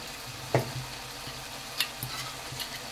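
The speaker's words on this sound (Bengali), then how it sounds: "ভালো করে মিশিয়ে নিলাম" A spoon stirs ash gourd ghont with hilsa fish head in a pan, giving a couple of faint scrapes over a soft, steady cooking hiss, with no talking.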